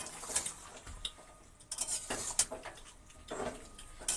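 A cooking pot of Bengali aloo dum gets covered, with a few sharp metallic clinks and scrapes of lid and utensils spaced over a few seconds, close and alone.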